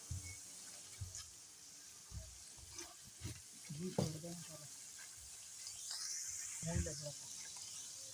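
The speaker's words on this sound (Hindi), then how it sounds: "अब हम इसमें चिकन भून लेंगे।" Chicken frying in masala in a pot, a soft sizzle with scraping stirs and intermittent knocks of a spoon, fairly quiet, with a hiss rising near the end.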